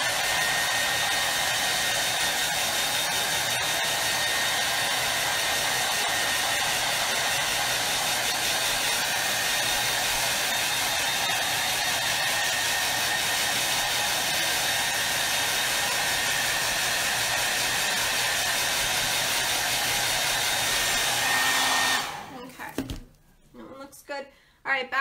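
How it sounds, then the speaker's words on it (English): A hair dryer blows steadily at close range to dry paint on small wooden date blocks, a loud, even whooshing hiss that runs for most of the stretch before cutting off abruptly near the end. "I'm just going to dry this one with a hair dryer."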